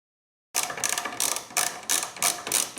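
A 10mm socket on a ratchet clicks in rapid bursts while the brake booster nuts come off a 1987 Oldsmobile 442. About six close, loud rounds of fast ratcheting start after half a second of silence, with no talking.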